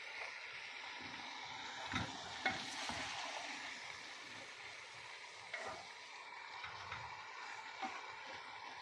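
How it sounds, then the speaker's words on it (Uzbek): Vegetables fry in a large cooking pot, a low steady sizzle broken by several clanks and scrapes as a spoon stirs them, fairly faint and without speech. "Sabzilarni ham solib boshqani yarmisini qovurib,"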